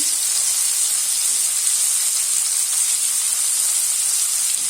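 Ginger, green chili, garlic and black pepper frying in a pan, a loud steady hissing sizzle without pause, close and unbroken.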